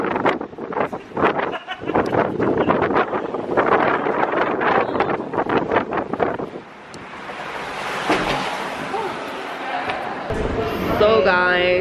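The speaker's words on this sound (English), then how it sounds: "it's so windy today" Strong wind near Chicago's Willis Tower buffets the microphone in heavy, rumbling gusts, with people talking and laughing over it; the gusting swells louder midway.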